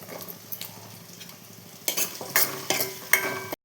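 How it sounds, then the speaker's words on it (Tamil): Garlic sautéing in a pan for a drumstick and brinjal kuzhambu: a soft, low sizzle, then several sharp metal spatula scrapes and clinks in quick, uneven succession near the end. "இது நல்லா வதக்கிக்கலாம். கொஞ்சமாக பூண்டு போட்டுக்கலாம்."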